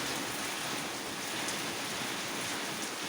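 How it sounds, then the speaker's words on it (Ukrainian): Heavy summer downpour pouring steadily onto rose bushes in a garden, a dense continuous hiss of rain without breaks, close and even throughout. "Показала вам, яка злива літня йде на мої троянди."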